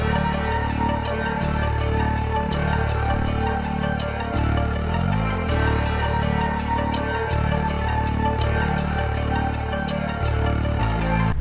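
An eight-bar beat intro made in FL Studio with only melody and bass, a repeating synth melodic pattern over deep pulsing bass notes, full and loud, with no voices.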